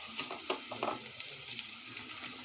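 Ginger garlic paste frying in a pan with onions and green chillies, a soft close sizzle with a few quick scraping stirs, brief and fairly quiet, with no voices.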